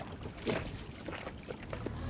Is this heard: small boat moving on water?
yes